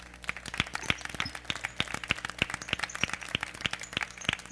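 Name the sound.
audience applause in church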